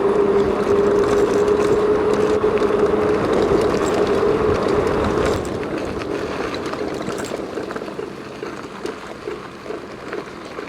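Onyx RCR radio-controlled cars driving around on stock-replacement tires, giving a steady, close electric motor whine over a continuous rolling rumble that eases slightly partway through, with no talking.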